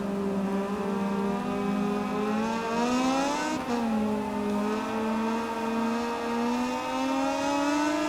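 Racing motorcycle in the video game MotoGP 19 on a wet track, its engine whining high, then dropping sharply under braking around the middle before climbing again as it accelerates, loud and continuous with no talk.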